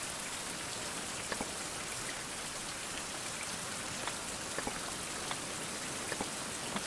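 Steady rain falls in the survival game Survival Fountain of Youth, a dense, even hiss of drops with faint occasional taps standing out, continuous and fairly close throughout.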